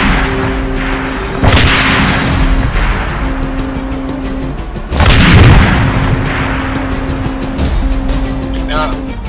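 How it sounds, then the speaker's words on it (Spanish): Two deep booms of large explosions in the Arma 3 military game roll out in the distance, each with a long rumbling tail, over a steady vehicle engine drone and intermittent radio-style speech. "hubo una explosión al noreste, muchachos, explosión grande al noreste"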